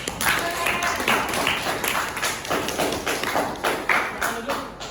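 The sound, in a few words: classroom applause for students who presented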